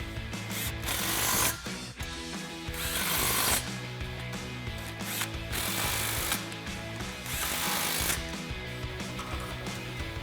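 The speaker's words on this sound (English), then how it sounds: "All these clamps are 15mm sockets, so we're going to grab our impact and 15," An impact wrench with a 15mm socket tightening exhaust clamps on a 2024-2025 Mustang during a Borla ATAK cat-back install, giving dense, continuous rattling hammer bursts with brief pauses, close and fairly loud.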